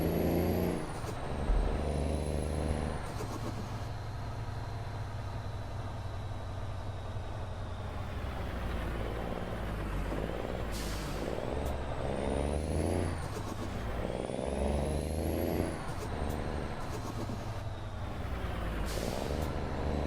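A deep truck engine in Euro Truck Simulator 2 drones steadily, rising and falling as it revs, with sharp high whistling hisses like air brakes at intervals.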